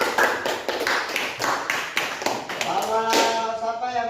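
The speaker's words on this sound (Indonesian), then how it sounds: "Tepuk tangan untuk Afgan." Classroom of students clapping for a classmate, a burst of rhythmic group claps that gives way to a voice speaking near the end.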